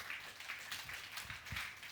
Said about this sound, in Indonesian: Tepuk tangan yang panjang buat Tuhan